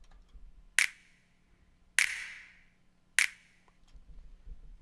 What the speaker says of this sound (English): I'll have some kind of clap or snap to get like a high-end pop.